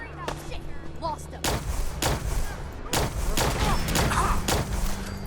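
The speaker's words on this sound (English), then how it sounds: "I have a new plasma sniper rifle that I'm trying out, which I like quite a lot" Plasma sniper rifle fire in Fallout 4, a series of loud sharp shots spaced about a second apart, each a broadband crack with a short tail, with a voice talking faintly underneath.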